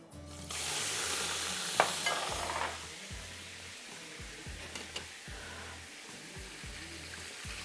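Chicken pieces frying in a pot for chicken and vegetable pulao, with a loud initial sizzle as the meat hits the hot oil, then a steady crackling fry and repeated scraping strokes of stirring.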